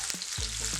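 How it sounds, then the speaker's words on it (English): Onions sizzle and fry in a pan, a steady close hiss with a soft stirring sound. "Saute this a bit. Half of the onions."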